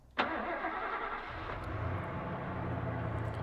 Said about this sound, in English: And the sound of an engine revving outside.